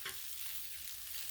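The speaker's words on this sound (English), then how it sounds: "Dump some pasta sauce on." Pasta sauce poured onto a hot Blackstone griddle alongside tortellini gives a quiet, steady sizzle with a soft stirring texture, continuous and without voices.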